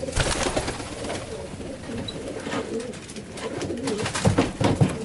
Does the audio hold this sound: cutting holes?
no